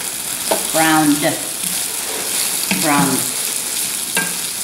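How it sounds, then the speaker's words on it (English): Turkey kielbasa browns in a pan, giving a soft, steady sizzle broken by a few short bursts of stirring and scraping, close and moderately loud. "We're going to let this go for a few minutes till the sausage is browned."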